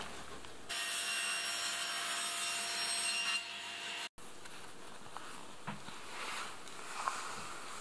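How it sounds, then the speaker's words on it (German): Wooden side panels for a simple birdhouse are cut to 30 cm with a saw. A steady, close rasping cut runs for about three seconds, then stops abruptly, followed by quieter handling noises and small knocks. "Und jetzt säge ich mir hier die Seitenteile einfach wieder gerade auf 30"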